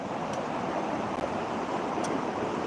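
Flooded river water rushes past in a loud, continuous broadband roar with no pauses and no voices.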